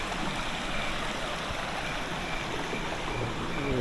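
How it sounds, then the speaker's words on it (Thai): Steady, continuous rush of a waterfall at Doi Inthanon, Chiang Mai, a dense broadband roar that holds constant throughout with no voices. "ที่พักก็มีเสียงน้ำตก"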